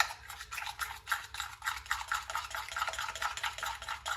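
Multani mitti, yogurt and oil being stirred together into a face pack, a steady run of soft wet scraping and rubbing strokes in quick rhythm, close and fairly quiet with no voices.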